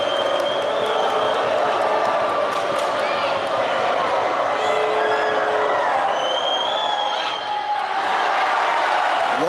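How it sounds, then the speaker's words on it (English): A packed high school gym crowd at a boys' varsity basketball game, Buena against Cienega, roars steadily and loudly through a free throw, with whistles and yells rising over the dense, continuous din. "the crowd getting up and hyped for this one"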